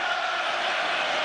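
A capacity crowd of over 41,000 fills Dinamo Stadium in Minsk, Belarus, before a Belarus v England football match, producing a steady, dense roar that holds at an even level without a break.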